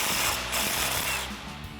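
A ratchet and wrench work 18 mm tie rod end bolts on a 2014-2021 RAM 2500 truck, giving a quick series of close metallic clicks and turning rasps over under two seconds.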